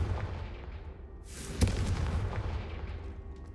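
Confringo blasting spell fired in Hogwarts Legacy, a single sharp explosive crack followed by a rumbling boom that decays over a low game ambience, with no voices.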